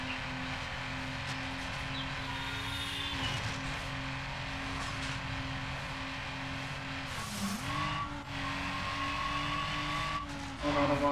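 A car in Need for Speed Underground skids loudly, its engine droning steadily with a squealing slide near the middle and a further burst at the end.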